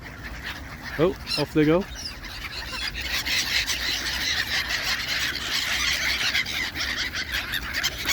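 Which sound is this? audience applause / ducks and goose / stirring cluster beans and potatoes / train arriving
ducks and goose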